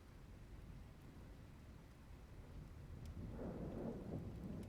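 Steady rain falls through a thunderstorm, and a low rumble of thunder swells up near the end. The sound is soft and continuous, with no voices.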